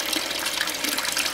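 Water siphons through an aquaponic grow bed in a low-budget home system, a continuous splashing, gurgling rush of flowing water heard up close with no talk.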